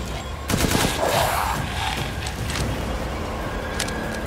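Heavy gun firing in the video game Resident Evil Village: a loud barrage of rapid shots with booming impacts that settles into sustained, rumbling gunfire, with no one talking.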